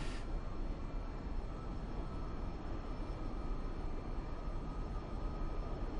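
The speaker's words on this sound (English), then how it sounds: "we get a little background noise here. We're sitting in the cockpit of a 747, simulated, of course" Steady, unbroken cockpit ambience of a simulated Boeing 747 in the X-Plane flight simulator, a dense broadband roar and hum holding constant throughout with no talking.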